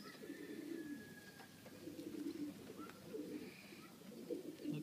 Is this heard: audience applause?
no